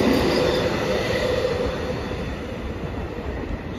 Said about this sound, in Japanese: 米原草津方面の新快速電車も通過してきましたが